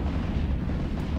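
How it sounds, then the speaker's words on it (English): A rumbling explosion during a large EVE Online fleet battle on a test server, a dense continuous low boom that fills the whole moment without any talk. "What the hell, something exploded there?"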